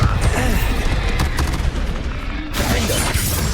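Loud, continuous blasting and crashing from the Bombarda spell in Hogwarts Legacy, a dense wall of explosive booms with a brief break partway through.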